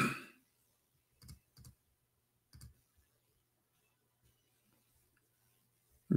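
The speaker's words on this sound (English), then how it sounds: "Let me type it for you on the screen" A few scattered clicks from a computer keyboard are heard in short bursts of typing, quiet and close, separated by long near-silent pauses.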